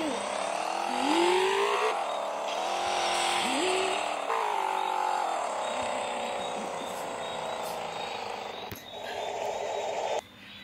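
A motorbike engine in the Roblox Vehicle Legends game revs during a test drive, its whine rising and falling in repeated swells with gear-like pitch climbs, loud and continuous, cutting out sharply near the end.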